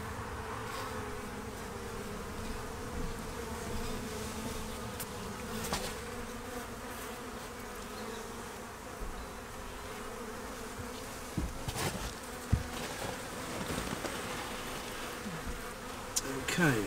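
Steady, dense buzzing of a honeybee swarm droning continuously close by as it builds comb, with occasional soft knocks and rustles, and no voices.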